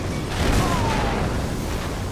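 A boom and rumbling blast during combat in the video game Uncharted 3, a dense, loud wash of noise that swells briefly and then holds steady without any talking.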